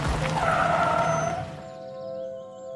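A car brakes hard and skids to a stop, a loud tire squeal that sweeps down and then fades into a quieter ringing tone.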